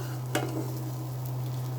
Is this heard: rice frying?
yes